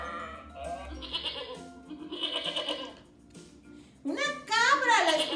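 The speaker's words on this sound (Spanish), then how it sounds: "¡Una cabra! ¿La escucharon?" A goat bleats in several quavering cries, the last burst loudest and most strained, as part of a farm-animal sound identification set.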